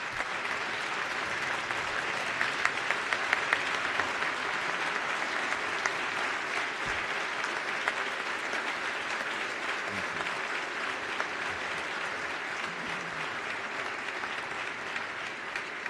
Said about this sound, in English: Please join me in applauding her years of service to this state.